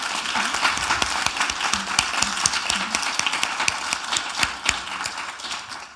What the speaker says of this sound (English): Now I'd like to offer these folks a round of applause as well.